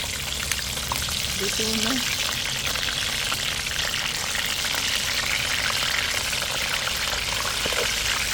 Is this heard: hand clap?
no